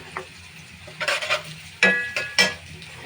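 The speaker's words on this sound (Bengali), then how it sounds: "এবার আমি রসুন কুচি দেব।" Chopped garlic goes into a pan of lightly fried onions for a beef brain bhuna, producing a soft background sizzle with a few louder clattering stirs and scrapes of a utensil against the metal, and no talking.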